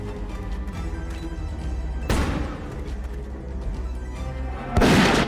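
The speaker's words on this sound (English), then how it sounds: "And this is a sniper tool." Sniper rifle and gunfire from a video game's shooting sequence, with a steady rumbling backdrop broken by two loud sharp blasts, the second sharper and louder, heard alone with no talk.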